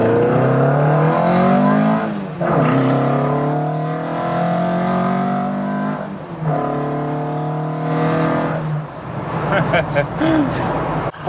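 A Ford Cortina Mk2 1600E's engine runs loud and close, its steady drone rising and falling through several revs, with a rougher burst near the end.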